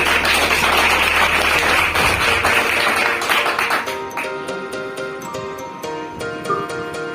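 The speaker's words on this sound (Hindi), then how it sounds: "इसके लिए चाहूंगा एक जोरदार तालियां।" Seminar audience at a Proveda India business event breaking into strong applause, a dense crackling wash of claps that thins into scattered individual claps and taps, fairly close and without talk.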